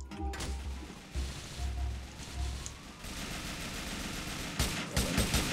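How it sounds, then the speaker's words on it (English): Police fire rattles in bursts during a GTA IV multiplayer mission, rapid clustered shots with mechanical clatter, moderately loud and continuous toward the end. "I'm also getting shot by police officers"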